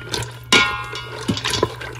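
Water and sauce stirred in an Instant Pot, with sloshing, liquid swirls and a sharp clink partway through, close and fairly loud, without talk.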